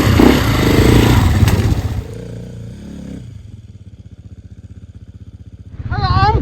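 Enduro motorcycle on the Valleys Xtreme Enduro prologue course, its engine droning loud and close, then dropping to a low idling throb before revving back up.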